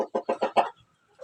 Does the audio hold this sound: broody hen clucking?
yes